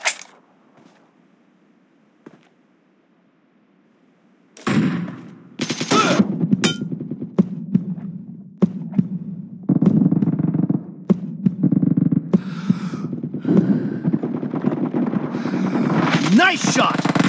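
Gunfire in PUBG during a deathmatch: a few seconds of near silence with a faint tick, then loud, close bursts of rapid automatic fire and sharp single shots that keep coming to the end.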